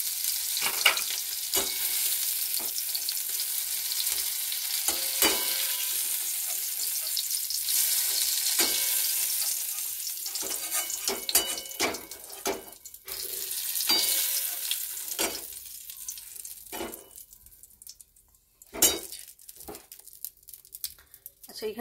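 Prawns fry in oil in a pan with a bright, steady sizzle, broken by crackles and stirring scrapes, close up; near the end the frying drops to quieter bursts. A voice talks at times over the cooking.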